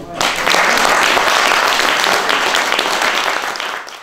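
At a literary evening with Dominique Bona, an audience breaks into loud applause for an honoree who received her sword, a thick sustained clapping that swells in quickly and stays strong before easing slightly near the end.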